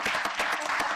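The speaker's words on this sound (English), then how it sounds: "let's give them a round of applause, please, and say thank you." Audience members applaud at a wine committees hearing, a short burst of scattered hand claps from a small group, fairly close and heard on its own.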